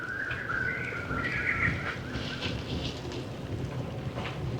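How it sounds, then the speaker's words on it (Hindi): Birds chirping in the forest during a morning jungle safari at Dhikala, clear bird calls early on over a steady, soft wind and a low vehicle hum, fairly faint and distant. "सुबह सुबह की इस सफारी में हर तरफ जंगल में पक्षियों के चहचहाने की, चिपरिंग की आवाज़ें आ रही हैं।"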